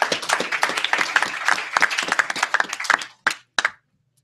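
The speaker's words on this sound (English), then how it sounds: "Let's give him a round of applause." A small audience at a Monday night crowdfunding pitch event applauds a presenter, fairly close and crisp, the clapping thinning out near the end to a few final scattered claps before silence.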